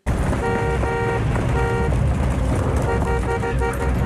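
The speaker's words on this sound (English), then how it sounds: "Who is honking at them?" A car horn in a movie scene sounds in a rapid run of repeated honks, short and long, over loud rumbling traffic and engine noise.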